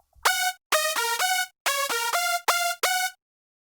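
Nexus Lead Lizard synth lead preset rings out in a clipped melody of about eight bright, harmonically rich notes in separated bursts with punchy attacks, loud and dry.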